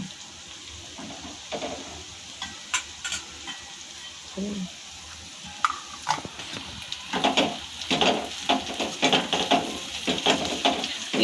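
Cluster beans and potato stir-fried in a pan over raised heat, with a low steady sizzle broken by repeated scraping and clattering stirs that grow busier toward the end, no voices.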